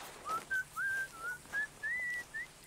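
A butcher in Red Dead Redemption 2 whistles a cheerful tune, a string of clear rising and sliding notes in short phrases, fairly close and alone over faint background ambience.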